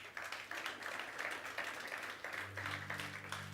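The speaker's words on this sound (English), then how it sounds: "Let's give him a round of applause." An audience at a sponsor launch event for Baroka FC gives a round of applause, a continuous mid-level patter of many hands that holds steady, with a low sustained tone entering near the end.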